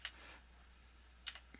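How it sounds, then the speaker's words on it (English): A few faint, scattered keystrokes on a computer keyboard, quiet clicks separated by a long pause over low background hum. "Now I'm typing this information"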